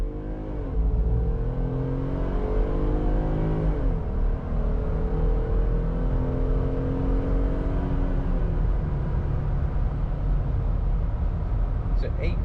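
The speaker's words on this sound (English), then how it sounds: "we'll do a 0 to 60 test. Bring the RPMs up just a bit." A Jeep Gladiator on 35-inch tires with stock suspension accelerates hard from a standstill through a 0 to 60 run, its engine climbing through several gear changes, loud and close, with someone talking over it.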